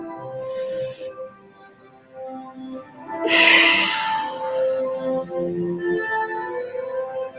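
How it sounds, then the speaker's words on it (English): A slow, deep breath is drawn in and then let out. Two airy bursts of inhaling and exhaling sound close, with a soft hum of sustained tones underneath. "Take another deep breath."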